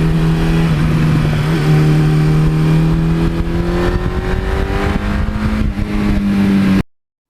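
A 1982 Suzuki GS1100E motorcycle rides along a road, its engine droning loud and close with a rising hum as it accelerates through the gears, wind rushing past, then cutting off abruptly.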